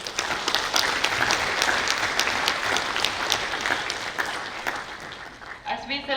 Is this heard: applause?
yes